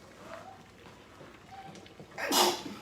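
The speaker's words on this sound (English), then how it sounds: "Oh, I got to sneeze." A single sharp sneeze bursts out near the end, loud and close, after a few quiet seconds of faint room noise.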